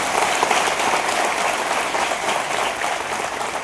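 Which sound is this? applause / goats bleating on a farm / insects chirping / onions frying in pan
applause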